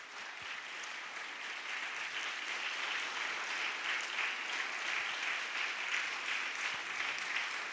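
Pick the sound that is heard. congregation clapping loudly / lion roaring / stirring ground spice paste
congregation clapping loudly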